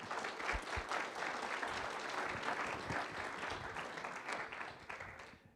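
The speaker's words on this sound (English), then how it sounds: "Can we give a round of applause to Geneva Campus Church?" An audience in a church or lecture hall applauds a campus church with steady, dense clapping from many hands, holding strong for several seconds before fading toward the end.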